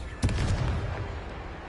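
A Confringo spell explodes in Hogwarts Legacy, a single sharp blast followed by a rumbling boom that fades quickly.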